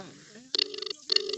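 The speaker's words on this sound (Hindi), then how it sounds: "उनके पास कॉल कर रहे हैं, ये देखते हैं उठाते हैं या नहीं" Phone ringback tones heard while calling the Bihar health minister: two long bursts of repeating electronic ringing separated by a short gap, clear and steady, with faint background noise before them.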